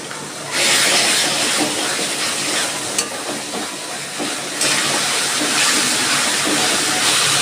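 Water poured into a pan of ginger-garlic paste, ground coriander and cumin frying hot sets off a sudden loud, broad steamy hiss that surges, eases slightly, then swells again and holds.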